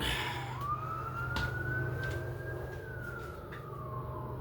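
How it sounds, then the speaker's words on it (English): A distant siren wails, its tone rising and falling in a long sweep over a low background rumble, with no talking. "Go away, sirens."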